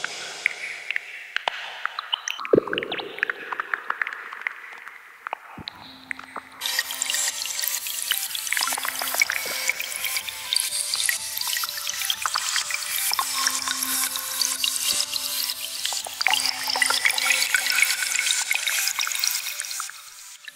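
A synthesized nature soundscape built in Bitwig Studio, with forest and water textures: a continuous running-water wash like a tap or trickle with scattered drips, quiet at first, then swelling to a steady full hiss with a low hum underneath.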